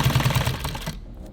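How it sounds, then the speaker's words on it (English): A sewing machine stitches nylon tactical gear in a short, fast mechanical chatter that runs for about a second, then stops abruptly, close and fairly loud. "so that's why I sew everything together in a chain like that."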